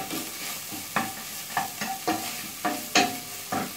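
Beef cubes stir-frying with chili powder for chili con karne, a steady sizzle broken by about eight sharp scraping stirs at irregular intervals, close and fairly loud with no voices.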